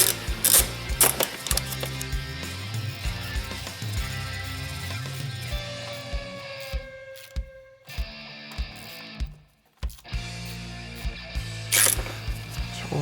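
A ratchet tightening a Mishimoto throttle body hose clamp, loud close clicking in repeated bursts with short pauses between strokes and brief near-silent gaps.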